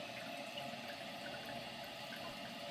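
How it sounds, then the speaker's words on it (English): A toilet tank refilling after installation, water streaming steadily as the float rises, a continuous, quiet hiss and rush with no voices over it. "Water's good, float's coming up"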